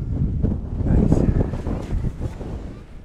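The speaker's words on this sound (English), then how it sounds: "It's pretty windy up here." Strong wind buffets the microphone on a built viewing platform of pressure-treated lumber and big bolts along the Skyline Trail, a steady rumbling roar with gusts that rise and fall throughout.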